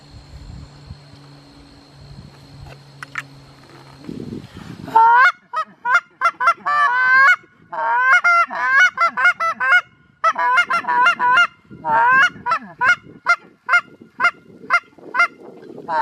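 A RockRib goose call, freshly tuned, is blown in a rapid series of sharp honks and clucks, loud and close, in quick irregular bursts after a brief stretch of quiet background hum.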